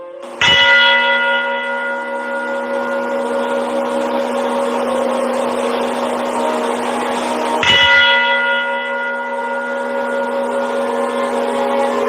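Church bells ring loud and near, each strike followed by a long, humming resonant decay, with a second strike coming about seven seconds after the first.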